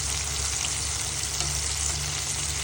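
Chicken karaage deep-frying in hot oil gives a steady, dense sizzle and crackle. It runs without a break at an even, moderate volume, with no talking.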